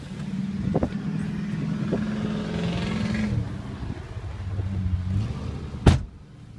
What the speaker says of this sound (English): Let's take you guys on a quick test drive and show you how the vehicle drives.